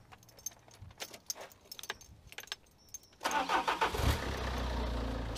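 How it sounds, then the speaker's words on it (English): A car engine cranks and catches during a battery tester's cranking test, preceded by a jingle of keys; the starter whirs briefly before the engine fires and settles into a loud, steady idle close by. "So let's start the engine."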